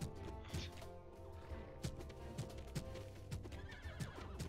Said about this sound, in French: Moi je frappe les chevaux pour qu'ils fassent la course tout seul